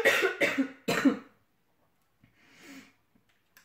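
Three sharp, close coughs in quick succession from a woman with an illness-related cough, followed by a quieter breathy exhale after a short pause.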